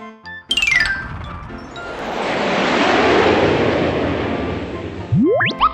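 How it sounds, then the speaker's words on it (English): An airplane sound effect for a children's vocabulary lesson: a short chime, then a broad rising and fading whoosh of a passing jet, ending in a quick tonal sweep. "An airplane goes whoosh, whoosh, whoosh."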